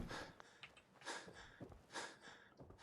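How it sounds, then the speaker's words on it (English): Heavy breathing in the Fallout 4 video game, soft rhythmic huffs and snorts repeating about once a second, faint and close with no talk over them. "I hear a lot of heavy breathing."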